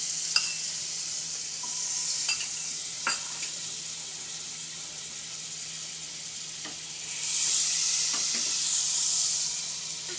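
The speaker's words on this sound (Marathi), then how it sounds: "आपण आता इकडे बटर टाकणार आहे" Butter sizzles in a hot pan while paneer curry cooks, a steady frying hiss with occasional stirring clinks and scrapes, the sizzle swelling louder near the end.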